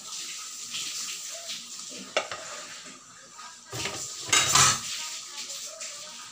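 A lid clinks onto a simmering pot of butter garlic seafood with shrimp, crabs and corn, with metallic kitchen clatter and a soft bubbling sizzle underneath; a few brief, sharper knocks stand out.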